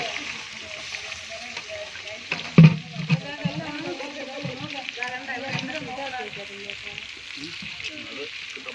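Onions frying with curry leaves in a home kitchen pan, a steady soft sizzle running throughout with a few louder spits and clatters near the start, while a person talks over it.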